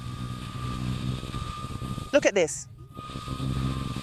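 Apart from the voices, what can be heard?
Bajaj Dominar NS400Z motorcycle riding in sport mode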